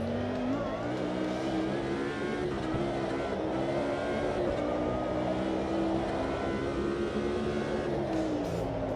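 A Lamborghini race car engine in the Automobilista 2 racing game drones steadily and loudly throughout, its pitch dipping and climbing as the car shifts through gears.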